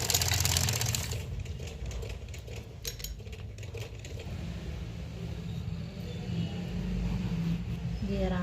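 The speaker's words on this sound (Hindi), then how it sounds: "यहाँ पे भी सिलाई लगाएंगे" A sewing machine stitches a zip into a pair of pants with a continuous close mechanical whir and ticking, steady throughout with slight swells in intensity.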